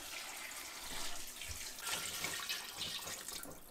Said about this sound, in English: so I'm probably gonna add water as well